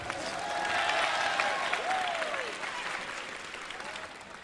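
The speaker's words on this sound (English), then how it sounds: "Applause." Audience applause at a 2007 stand-up comedy show, steady clapping that swells and then gradually thins out over several seconds, with faint voices mixed in.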